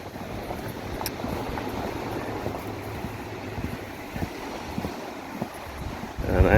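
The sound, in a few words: blustery wind at the beach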